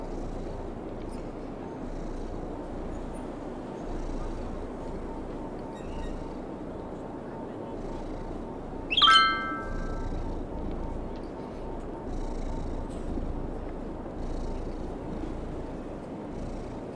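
A white cat purrs in a steady, continuous low rumble close to the microphone, running the whole time with a brief brighter chirp or squeak partway through.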